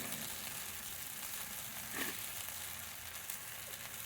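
Rice and turmeric fry together in a pan, a soft, even sizzle with a faint brief scrape of stirring midway, close and steady throughout without any voices.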